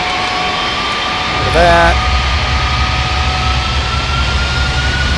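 A McDonnell Douglas MD-11 jet in Flight Simulator X rolls off the runway after landing, its engines holding a steady whining drone with a low rumble beneath; someone speaks briefly over it.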